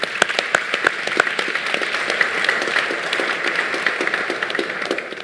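Audience applause at the 2022 Golden Herald Awards ceremony honoring students, a steady dense wash of many hands clapping for several seconds, with a few sharper nearby claps standing out at the start.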